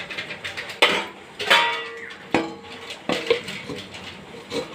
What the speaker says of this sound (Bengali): সমস্ত কিছু দিয়ে এবার ভালো করে আমি একটা ঢাকা দিয়ে দেবো